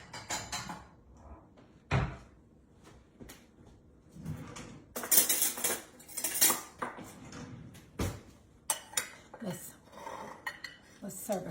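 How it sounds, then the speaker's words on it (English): A small bowl being taken out in a home kitchen while making an Asian slaw, with dishes and cutlery clattering in several sharp, close knocks and clinks, along with a cupboard or drawer bumping and some quiet background noise. "Let me get me a little bowl."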